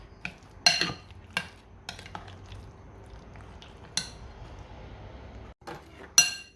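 A spoon clinks and scrapes against a bowl while mini pizza topping is mixed, sharp metallic knocks spaced irregularly over quieter stirring, close by and with no speech.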